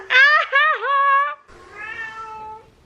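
A pet cat meows indoors, several loud, close meows in the first half, followed by a softer, drawn-out meow.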